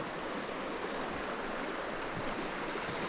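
Steady broadband rush of the River Irfon in Mid-Wales, a slack stretch of water just above faster flow, with continuous even water noise and no voices, like a stream close by.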